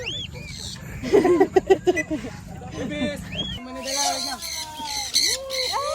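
Harsh, raspy cockatoo squawks burst out in a loud series during outdoor free flight, alternating with people talking and calling out nearby.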